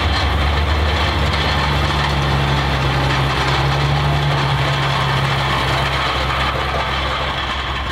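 A Schlüter compact tractor with a MAN engine runs steadily at a farm field day, a loud, continuous low diesel rumble with a constant hum throughout and no speech over it.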